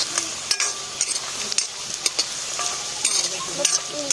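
Soybeans frying in oil, a bright crackling sizzle with frequent rhythmic stirring scrapes and clinks of a utensil against the pan, close and fairly loud, without voices.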